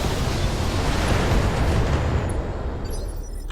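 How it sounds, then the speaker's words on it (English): Mech weapons fire in the Battletech video game as a dense, roaring barrage of blasts and explosions that holds loud and steady for several seconds before easing slightly at the end. "Firing all weapons."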